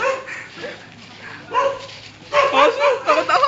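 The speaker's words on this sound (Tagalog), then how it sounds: "Aso, takot ang aso." A dog barks and yips close by in a series of short, excited calls that grow louder toward the end. People's voices mix in around the barking.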